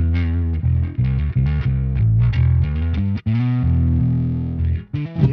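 A bass guitar passes through a bass amp effect, sounding thick and growling with a distorted edge as it plays a run of short, punchy notes and then holds a sustained note.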